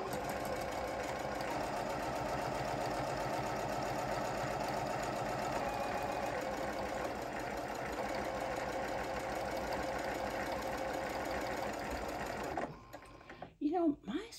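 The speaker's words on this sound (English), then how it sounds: "The tension on my sewing machine is looking terrible." A sewing machine with poor thread tension runs in a fast, steady mechanical rattle for several seconds, then stops, followed by a few soft handling noises.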